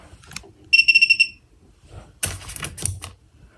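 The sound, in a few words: Snap Circuits toy fire alarm system sounding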